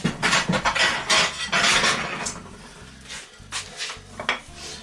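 Dishes and cutlery clatter while a plate is fetched for a freshly cooked ham omelette in a home kitchen, several close clinks and scrapes in quick succession, quieter toward the end.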